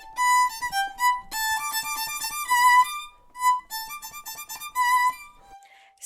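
Violin fitted with a heavy lead practice mute, playing a short melodic phrase of sustained notes with a few pauses, muted and fairly quiet, with no talking.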